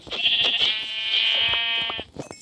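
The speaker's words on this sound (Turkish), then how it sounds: "Bir tane de koyun bulduk." Sheep bleating in a video game: one long, loud, wavering bleat lasting about two seconds, heard close up, followed by a few short clicks.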